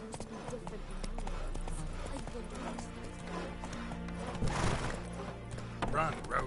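Roach the horse gallops with a quick, rolling clip-clop of hooves in The Witcher 3, steady and moderately close beneath ongoing speech and game sounds.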